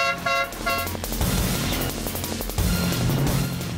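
Car horns toot in a news segment sound effect, several short honks at first, then longer blasts over traffic noise, loud and upfront without speech.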